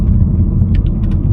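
A car rolls downhill with a steady, close engine rumble and low road drone, a few faint higher ticks over the continuous hum.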